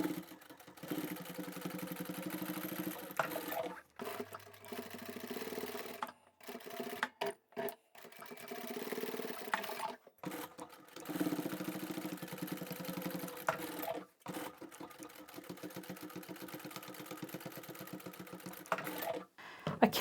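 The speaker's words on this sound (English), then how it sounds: "we can take this back to the machine, and we're going to sew down both of these short edges on both pieces of fabric" A sewing machine runs in steady whirring bursts while stitching down the short edges of fabric pieces for a simple storage box, with brief pauses between runs, close and alone.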